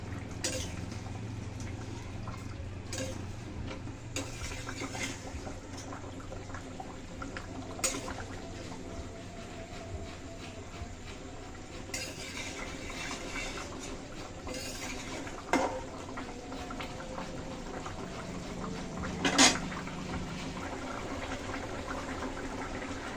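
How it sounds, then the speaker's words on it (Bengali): Cumin paste being stirred into a tilapia curry with potatoes and tomatoes in a pan, a soft continuous scraping and bubbling with occasional light utensil knocks against the pan, close and steady. "একটু জিরা বাটা দিয়ে দিলাম। ভালো করে মিশিয়ে নিচ্ছি।"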